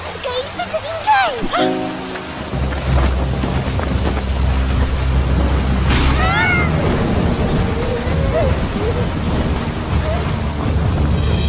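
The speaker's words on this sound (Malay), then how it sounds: "hujan" Steady cartoon rain hisses throughout, with low rumbling underneath and a few brief voice-like sounds near the start.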